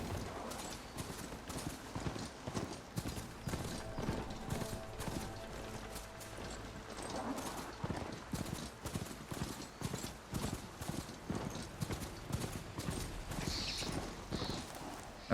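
A mount's hooves clip-clop steadily in the video game Horizon Forbidden West, a quick running rhythm of close hoofbeats that continues without a break.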